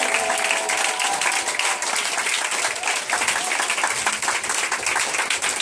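A church congregation applauds to acclaim Jesus, steady dense clapping from many hands filling the room at a constant loud level, with voices faintly mixed in.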